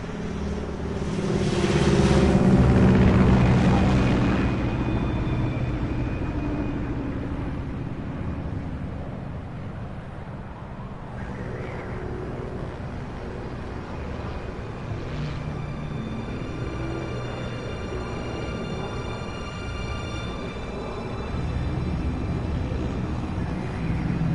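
An aircraft flies over in the video game Metal Gear Solid 3, set in 1964 at 30,000 feet. A steady roaring drone swells loudest in the first few seconds, then holds as a continuous engine rumble with no voices.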